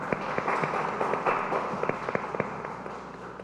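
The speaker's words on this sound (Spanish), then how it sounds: "Por favor, les pido un aplauso para ella." Audience applause at an environmental forum in Mexico City, a steady wash of many hands clapping with sharper individual claps standing out, moderately loud and continuous throughout.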